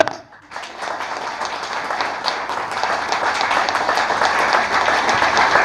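A satsang audience at a Hindu devotional gathering claps loudly after a short silence, building into steady, dense applause that holds and swells slightly to the end.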